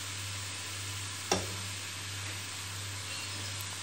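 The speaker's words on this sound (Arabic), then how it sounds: "غادي نزيد شويه الزيت الزبده، وغادي نشحر هاد الخضر" Vegetables, including carrots, sauté in oil and butter with an even, continuous sizzle, a low steady hum beneath it and a single sharp utensil click early on.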